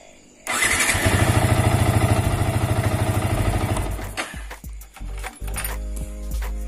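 A motorcycle's electric starter cranks in a rapid chugging rattle for about three seconds, then the engine catches and settles into an uneven idle with a few revs and clicks, loud and close.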